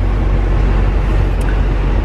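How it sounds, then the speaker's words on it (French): A car's ventilation fan runs loudly, producing a steady broadband whooshing roar that fills the whole short stretch without pause. "vous devez entendre un gros bruit, c'est la ventilo, enfin la ventilation."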